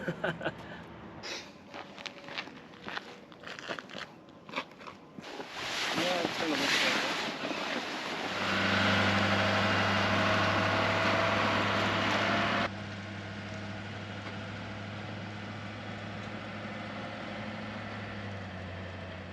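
A truck passes close by at a boat-side setting, a broad rumbling wash that swells loud and holds with a low engine drone, then drops to a steadier, quieter hum; wind buffets the microphone and a person talks early on.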